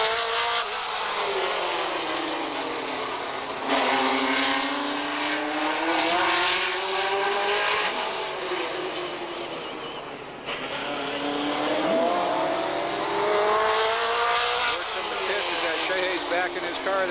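Super stock race cars roar around Redwood Empire Raceway in a main event, engines rising and falling in long waves as the pack sweeps past, loud and continuous with a fresh surge of passing cars every few seconds.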